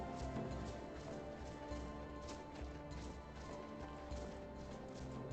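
Horse hooves clip-clop in Skyrim, a steady rhythmic trot of faint, muffled hoofbeats over a constant low background hum, with no voices.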